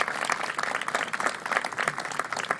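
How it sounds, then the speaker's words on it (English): A round of applause from attendees at an outdoor ribbon-cutting ceremony for a new facility, many hands clapping in a fairly close, irregular burst lasting a few seconds. "Give them and the contractors a big round of applause,"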